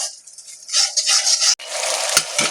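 Turmeric, Kashmiri chili powder and sauces are stirred together in a pan over medium heat, producing close, rough scraping and rubbing strokes with a faint sizzle and no voices.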